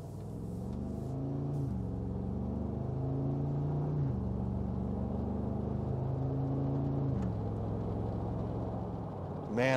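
A 2021 Mercedes-Benz G63 accelerates hard, its engine rising in pitch through several gear changes with a drop at each shift, a loud, steady drone heard from inside the SUV.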